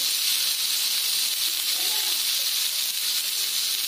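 Onions for chutney sautéing in a hot pan, producing a constant, loud, broad hiss of sizzling that stays even for the whole few seconds with no pauses.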